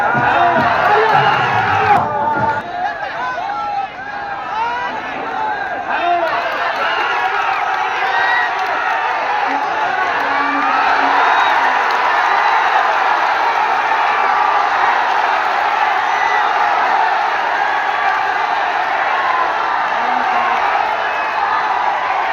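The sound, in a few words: crowd clapping and cheering at wrestling match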